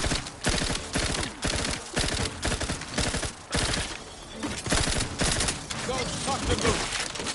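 The Moon Man gun in The Outer Worlds 2 fires rapid repeated shots, loud sharp cracks in quick rhythmic bursts with short pauses, continuing throughout.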